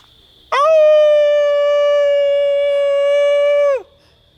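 A single long, loud howl from a person mimicking a wolf to call wolves, a steady tonal note held for over three seconds with a sharp onset and a falling tail, close and alone in quiet surroundings.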